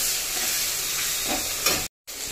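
Chopped tomato hitting a hot pan while pasta is being cooked gives a loud, steady close-up sizzle and hiss with light stirring scrapes. A brief cut to silence comes near the end, then the sizzle resumes.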